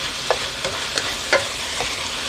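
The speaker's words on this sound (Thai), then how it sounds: "กระเพราลงไป ผัดให้เข้ากันค่ะ" Crispy pork and holy basil are stir-fried in a pan, with a constant close sizzle broken by several sharp spatula scrapes and taps against the metal at an uneven rhythm.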